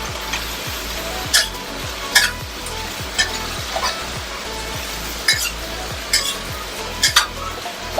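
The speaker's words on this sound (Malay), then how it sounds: "Goreng cili padi" Whole bird's eye chilies frying in oil, a steady close sizzle under rhythmic stirring and repeated sharp clinks of a utensil against the pan.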